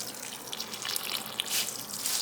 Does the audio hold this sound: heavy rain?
no